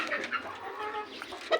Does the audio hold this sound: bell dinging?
no